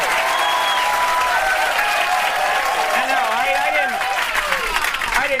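Studio audience applause on a talk show, a steady roar of clapping from a packed room with cheers and whoops layered over it, while a voice speaks through the noise.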